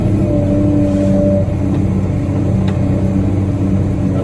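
A Moxy truck driving along a sloped bank beside a horse arena pad gives a loud, steady engine drone with low rumble and a constant mid-pitched whine, close to the microphone, with no speech.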